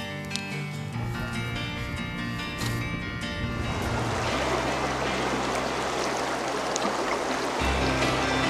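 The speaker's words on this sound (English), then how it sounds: "Here we are in this little stream here." A small stream in remote Alaskan interior wilderness flows steadily, its broad rushing water sound continuous and close throughout, with a low tonal hum underneath early on.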